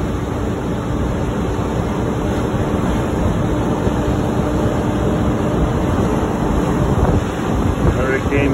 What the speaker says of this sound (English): Hurricane right now is about 90 miles per hour wind